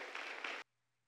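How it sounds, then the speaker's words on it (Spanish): A church congregation bursts into loud, dense applause for a little over half a second, then it cuts off abruptly into near silence. "Dale un fuerte aplauso a Dios."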